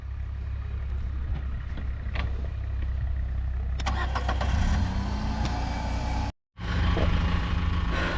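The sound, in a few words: 2017 Renault Duster diesel driving up an incline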